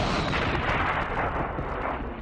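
Deep, rumbling blast effect in a propaganda film, a sustained broadband roar of explosion and debris that stays loud and dense throughout with no voices.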